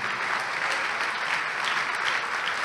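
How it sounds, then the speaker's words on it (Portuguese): A congregation claps steadily during a church service broadcast, a thick, continuous wash of applause that holds at an even level throughout. "Vamos aplaudir mais ao nome de Jesus."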